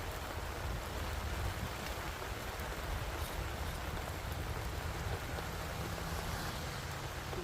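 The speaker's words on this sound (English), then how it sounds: "The good thing about rain, it does cool it down." Rain falls at a well pump house job site as a quiet, constant wash of drops with a low rumbling undertone, steady and unbroken throughout.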